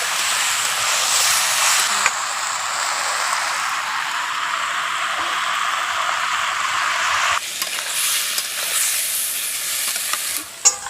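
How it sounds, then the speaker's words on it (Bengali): Pumpkin pieces fry in a pan with a steady, loud hiss that shifts abruptly when water is poured in, then keeps sizzling with a few clanks of a utensil near the end. "এবার পরিমাণ মতো জলটা দিয়ে দেবো।"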